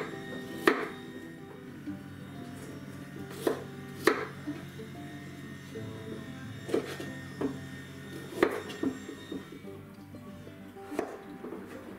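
A knife chops chayote on a board, with sharp, distinct strikes landing in irregular clusters every second or so, close and clear over a low steady background hum.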